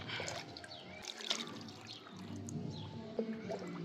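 Water poured and trickling as feet are washed outside a temple before entering, a faint, close splashing and dribbling with small drips, no voices.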